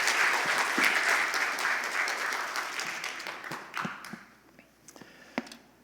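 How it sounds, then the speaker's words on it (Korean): A Korean church congregation in Orange County applauds during a Sunday worship service, with a full, steady wash of clapping that fades into a few scattered, closer claps and shuffling before going quiet. "우리 박수로 한번 크게 환영하겠습니다."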